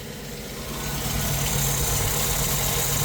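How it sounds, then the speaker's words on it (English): A Jeep engine idles steadily after start-up with its air filter removed and the valves clattering, a continuous low rumble with mechanical ticking that swells slightly then holds loud and close. "Sounds like she's running pretty good actually, minus the valves clashing together."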